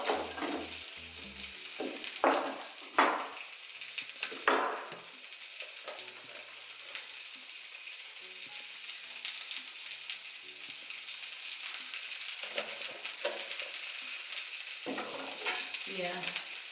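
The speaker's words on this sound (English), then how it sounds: "I'm going to put the sausage on, guys, because they will take longer to cook." Sausages coated with oil sizzle on a home BBQ grill, a steady frying hiss throughout, broken by several sharp scraping and clattering knocks from handling the food and tools, with no talk.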